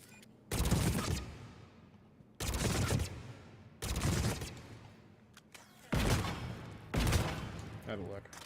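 Five loud bursts of rapid gunfire from the video game Mass Effect 3 come in regular succession, each lasting about a second and separated by short, quieter gaps.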